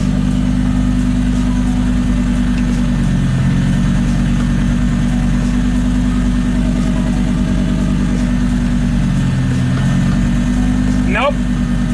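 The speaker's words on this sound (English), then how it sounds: "My Lamborghini runs, guys. It actually runs." A cheap, broken Lamborghini's engine runs loud and steady at idle throughout, with deep low rumble and brief dips in pitch; a voice talks over it and a short rising whine is heard near the end.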